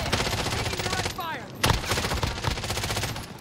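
Rapid gunfire in Warzone on Rebirth Island, a dense stream of close automatic shots with a few heavier cracks, running steadily throughout over faint game ambience.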